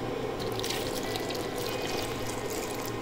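Pap (ogi) mixture is poured slowly into a pot of water while being stirred, giving a continuous close liquid splashing and sloshing with no talk.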